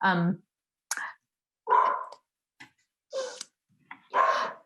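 A dog barks in short, sharp bursts, about six separate barks spaced irregularly with silent gaps between them, loud and close.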